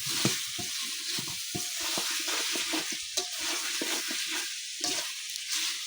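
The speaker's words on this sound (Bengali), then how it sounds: "মাংসটা ভালো করে কষাইতেছি" Meat being stir-fried in a pot over a clay stove, a steady broadband sizzle with irregular stirring scrapes and clatters, close and continuous throughout without talk.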